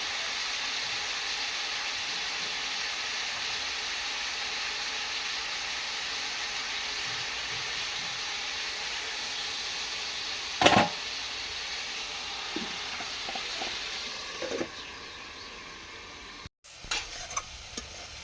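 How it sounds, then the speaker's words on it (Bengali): Cabbage fries in oil in a pan on a gas stove, a steady broadband sizzle running throughout with occasional louder clatters of stirring and a brief sharp knock near the end. "বাঁধাকপি ভাজা হচ্ছে উনুনে"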